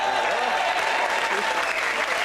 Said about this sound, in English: Immediate applause.